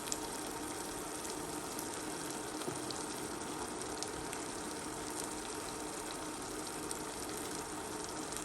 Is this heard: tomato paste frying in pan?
yes